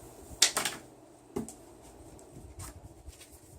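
A pad of paper is tossed and flipped like a coin indoors, giving a pair of crisp papery slaps near the start and two softer taps later, close and otherwise quiet, with no talk.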